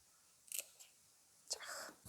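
Two crisp, quiet snips of sharp scissors cutting through plant leaves, the second followed by a brief rustle, in a hushed room.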